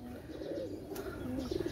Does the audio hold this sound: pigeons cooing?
yes